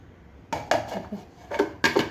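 Carrots are chopped in a hand-pulled food chopper for carrot barfi, giving a handful of sharp clacking and clattering knocks of blade and plastic, close and fairly quiet.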